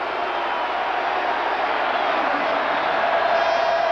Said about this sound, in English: That's a second crowd noise.